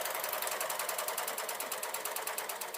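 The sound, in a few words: sewing machine stitching stretch fabric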